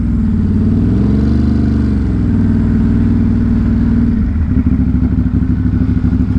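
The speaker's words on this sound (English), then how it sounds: "There's a lot of motorcyclists behind me" Motorcycles ride on a city street, a loud close engine droning and shifting pitch as it revs, then settling into a throbbing idle-like rumble near the end.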